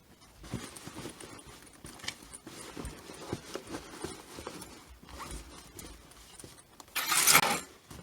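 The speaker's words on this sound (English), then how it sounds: "Sorry with that loud noise, I was pulling out my extension table" A sewing machine's extension table is pulled out with a sudden loud, scraping rasp near the end, after quieter close-up handling clicks and rustles.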